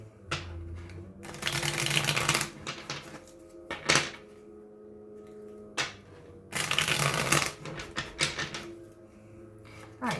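Tarot cards being shuffled by hand, two long riffling bursts separated by quieter taps and card handling, close and fairly soft, with no talk.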